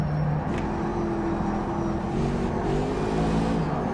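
A Panoz Roadster in rFactor 2 snarls through heel-and-toe downshifts, its engine blipping and revving in short rising and falling bursts, loud and up close with no talk over it.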